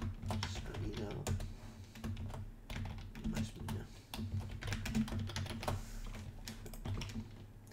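Computer keyboard typing in rapid, irregular bursts while entering text for a sign in Minecraft, close and steady, with a speaking voice and game sounds faintly underneath.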